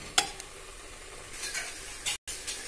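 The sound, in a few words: stirring khoya into carrot halwa in a pan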